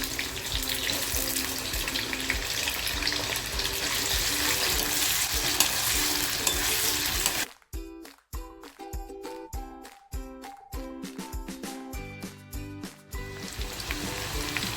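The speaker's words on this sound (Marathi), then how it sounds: "तेल छान तापले बटाटे जे कापून घेतला ना तो बटाटा टाकते थोडासा फ्राय करून घेते" Cut potatoes are fried in hot oil with asafoetida for a homemade matar batata bhaji, with a loud steady sizzle for several seconds before the sound breaks into choppy bursts and clatter.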